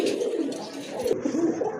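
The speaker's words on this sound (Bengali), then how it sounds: "আরেক জোড়া কোকা কবুতর, খুবই চমৎকার ডাকে" A pair of Koka pigeons coo softly and continuously at close range, their low, rolling calls running steadily without pause.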